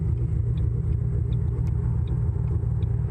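A 560whp supercharged manual Ford Mustang with a cam and axle-back exhaust idles and pulls off, giving a deep, steady, close rumble with a low throbbing pulse.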